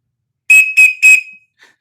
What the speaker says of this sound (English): That deserves an emergency whistle.